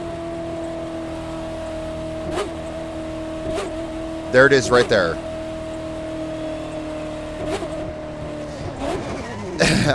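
A car engine in The Crew 2 racing game idles with a steady drone, then blips and revs in short bursts with one louder rev cluster midway, while someone talks over it.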